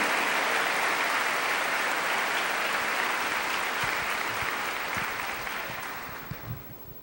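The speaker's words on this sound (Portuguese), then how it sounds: "Aplaudir essa palavra" Church congregation applauding after a Bible reading, a dense, steady clapping that fills the space and slowly fades toward the end.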